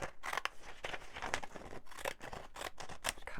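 Scissors snip through a paper fold in a quick series of close, crisp cuts, each blade closure a sharp rasping burst with brief gaps between strokes.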